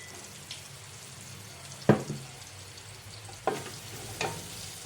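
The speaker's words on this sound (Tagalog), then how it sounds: "Kaya ako dito ginigisa guys." Chopped onions sautéing in a pan, a low steady sizzle with a few sharp clatters of stirring spaced across the stretch, no talking.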